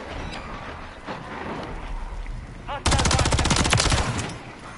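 A remote turret fires in a Call of Duty match on the Shipment map: a loud, rapid automatic burst erupts partway through and rattles steadily for over a second after quieter game ambience.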